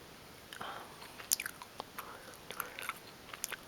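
Gum is chewed right up close to the mic, with soft wet smacks and clicks landing in an uneven rhythm over a quiet hiss and no spoken words.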